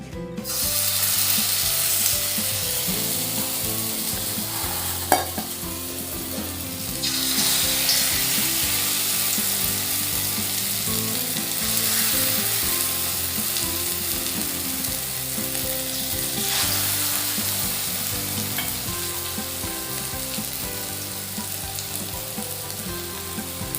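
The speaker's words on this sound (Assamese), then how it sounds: "পকৰি যেনেকৈ বনায় তেনেকৈ ভাজিম" Pakora-style fritters deep-frying in mustard oil give a steady, loud bubbling sizzle throughout, with a sharp clatter near five seconds and a brief surge in intensity around seven seconds; no one speaks.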